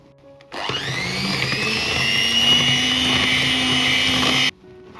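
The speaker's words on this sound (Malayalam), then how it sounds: "മൂന്ന് മുട്ട പൊട്ടിച്ചൊഴിച്ച് അത് നല്ലപോലെ ബീറ്റ് ചെയ്തെടുക്കാം" Three eggs with vanilla essence for a sponge cake are whipped by an electric beater, a steady high motor whine that starts abruptly, holds loud and even for about four seconds, then cuts off.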